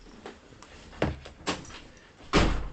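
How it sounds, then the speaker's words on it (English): A door being pushed repeatedly but refusing to close, giving three distinct knocking thuds about half a second to a second apart, the last the loudest, close by with no talk. "the door is refusing to close"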